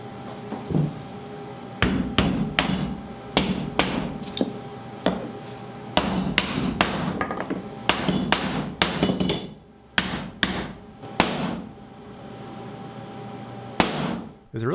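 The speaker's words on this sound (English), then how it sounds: "and then hammered in the replacement piece." Sharp hammer blows drive a replacement piece into place over epoxy, a close series of loud metallic strikes in irregular bursts with brief pauses between groups.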